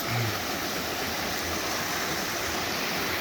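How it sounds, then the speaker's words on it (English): Water flowing fast and steadily, a broad, loud rushing like a stream or small waterfall, close and unbroken throughout with no voices. "Look at all the water."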